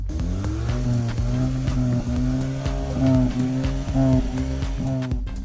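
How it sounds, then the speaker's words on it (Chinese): Close rumble from the dual-sided quad exhaust of an idling Geely Binyue Cool, a steady low throbbing burble heard from behind the car, loud and continuous with no talking. "现在我蹲在这儿啊，就听着嘟噜嘟噜嘟噜嘟噜嘟噜嘟噜这个排气的声，给你们听听啊"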